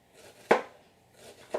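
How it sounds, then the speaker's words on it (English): A knife thinly slicing a red onion on a board gives two crisp, close cuts about a second apart, each a short sharp chop over a quiet background. "I'm going to thinly slice down this red onion"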